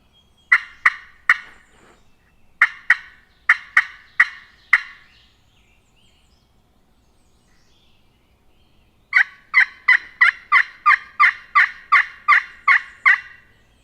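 A wild turkey hen yelps in quick, sharp runs: a few calls, a longer burst, a pause, then a steady string of about a dozen loud yelps.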